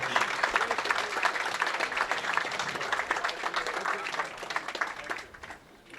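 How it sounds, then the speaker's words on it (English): Audience applause at a senior bowling tournament's stepladder finals: a sustained, dense patter of many hands clapping that holds steady for several seconds and then thins out and fades near the end. "A nice round of applause for Willie Wells"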